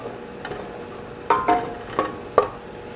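A tomato and green chili paste frying in a pan for an egg and chickpea curry, with a soft sizzle beneath several sharp clinks and scrapes of a utensil stirring against the pan.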